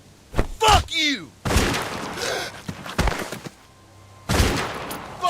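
Video game gunfire crackles in several loud, sharp bursts, some clustered like a volley, spread across a few seconds with shouting voices in between.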